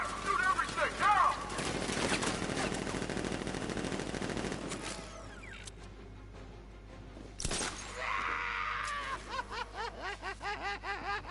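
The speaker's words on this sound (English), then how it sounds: "Guard! Open fire! Shoot everything! Now!" Guards open fire in the Batman: Arkham Knight video game: dense bursts of automatic gunfire rattle over the first few seconds, then a single sharp report and a short later volley, with character voices heard among the shots.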